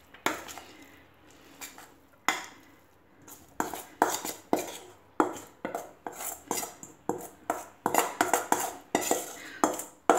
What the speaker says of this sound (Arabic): دابا غادي نخوي الرز ديالي في هذا المول